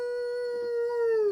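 A person imitates a wolf with a single sustained, tonal howl, held close and clear before it slides slightly downward at the end.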